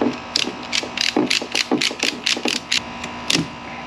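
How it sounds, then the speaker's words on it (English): A ratchet strap is cranked tight over an Old Town Sportsman 106 PDL kayak, giving a quick run of sharp, close mechanical clicks in short bursts, then a pause and one final click. "So I'm going to try to ratchet it down here for this first strap"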